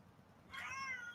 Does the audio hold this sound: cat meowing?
yes